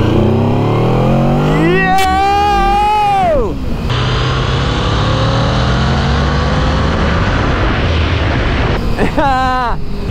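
Powerful cruiser motorcycle accelerating hard in second gear, a loud close engine note climbing in pitch, then a shift and sustained roar with wind noise, followed by another rising rev near the end.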